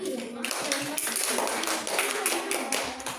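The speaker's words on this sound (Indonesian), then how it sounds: "Tepuk tangan buat kelompok 1." A classroom of students claps for a group, a quick patter of many hands tapping close together, with a teacher's voice talking over it.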